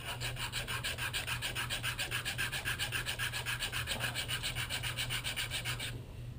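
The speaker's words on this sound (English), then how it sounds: "Sand this one." Steady back-and-forth sanding of a Mont-Cenis Modolo bicycle brake part, a rhythmic raspy scraping with quick regular strokes that runs for about six seconds and then stops.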